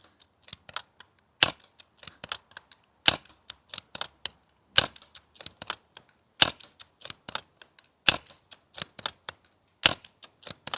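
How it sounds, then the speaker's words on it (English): An airsoft sniper rifle, powered by gas, CO2 or spring, fires sharp snapping shots at a steady pace of roughly one every couple of seconds. Lighter mechanical clicks fall between the shots, and no one talks. "Keep firing one off in the distance so we can see if we still have the range"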